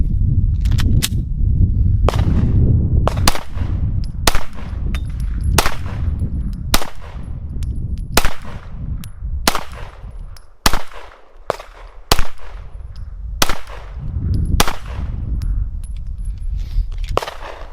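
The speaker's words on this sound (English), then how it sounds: "So let's do a little bit more shooting with this and see how it works." Gen 3 Glock 19 9mm pistol fired in a string of roughly a dozen sharp, loud shots at uneven intervals, each crack trailing off briefly, with no talking.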